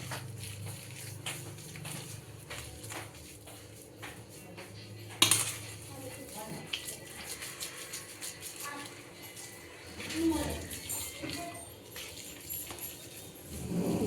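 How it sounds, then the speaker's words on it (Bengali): Boiled potatoes are mashed in a bowl for aloo paratha, soft irregular squishing and pressing with light clinks of a spoon or utensil against the dish, one sharper knock partway through, at moderate closeness. "আলু ম্যাশ হচ্ছে।"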